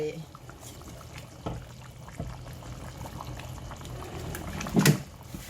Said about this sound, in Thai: ปิดฝารอให้เดือด